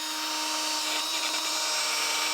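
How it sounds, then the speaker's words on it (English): Drill motor spinning a brush against the top surface of a Massey Ferguson tractor engine block, a steady high whine and scrubbing hiss that holds evenly throughout, with no talking. "I'm using a brush on the end of the drill motor here so that I can get that clean"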